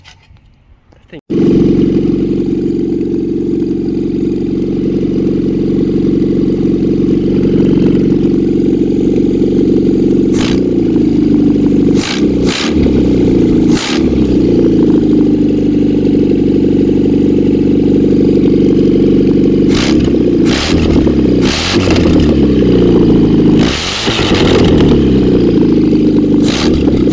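A Volvo B20B engine fires up and runs loud and close, holding a rough steady idle broken by several sharp revs that rise and settle back down.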